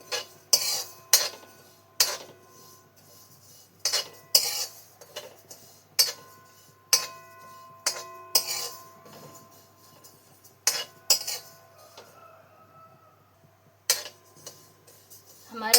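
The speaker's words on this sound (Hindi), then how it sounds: "हम हमारे ज़ीरे को अच्छी तरह भून लेंगे।" Cumin seeds dry roasted in a pan for a kala masala spice blend, stirred with a spoon: repeated crisp scrapes and metallic clinks about once a second, close and fairly loud, with quiet gaps between strokes and no talking.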